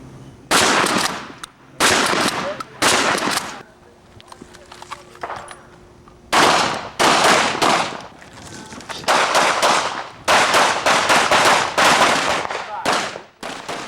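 Handgun gunfire at a police academy range: a long series of loud, sharp shots in rapid bursts, near and echoing, with short gaps between strings of rounds.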